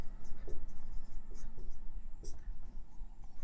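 Chalk or marker scratches and taps across a classroom board during a physics lesson, several short strokes in an irregular rhythm, close and moderately clear over faint room noise.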